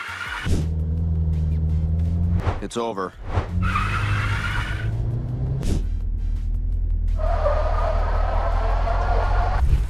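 A car driving along a Scottish road, steady engine and tyre rumble broken by a sharp disturbance midway as a dog jumps in front, with a brief spoken remark.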